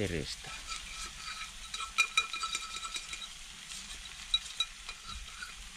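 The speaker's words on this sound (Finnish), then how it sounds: "Kyllä se tirinä käy." Pancake frying in a pan over a campfire at Lemmenjoki, a soft steady sizzle with light scraping and stirring clicks scattered throughout.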